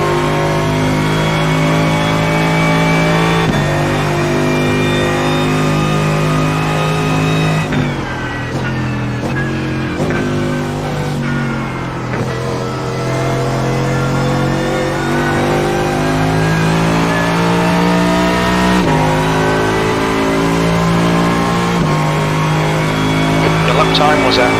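A Mercedes-AMG GT3 race car laps Sebring, its engine loud and close throughout, rising and falling through repeated revs, upshifts and downshifts, with a brief lift mid-lap before hard acceleration resumes.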